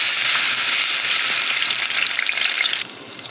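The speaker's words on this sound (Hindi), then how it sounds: "अब इसमें ये लहसुन प्याज का पेस्ट जाएगा।" Loud, close crackling sizzle of garlic-onion paste hitting hot oil, continuous for a few seconds before suddenly dropping to a quieter hiss.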